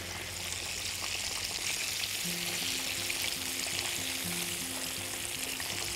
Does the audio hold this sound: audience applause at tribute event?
no